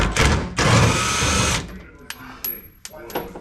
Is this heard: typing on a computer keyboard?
no